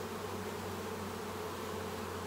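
Steady close buzzing of many honey bees flying around a hive, an unbroken insect drone with no talking.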